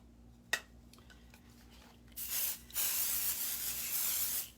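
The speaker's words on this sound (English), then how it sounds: "I just spray a little bit of pixie spray." A short spray burst hisses twice from an aerosol can of repositionable stencil adhesive spray, the second hiss longer and steadier, close by after a faint tap.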